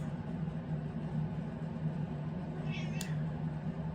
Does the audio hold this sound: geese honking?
no